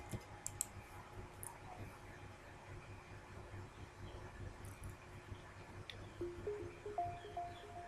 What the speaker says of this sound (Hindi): इसके बाद आपने क्रिएट ब्लॉग पर क्लिक करना है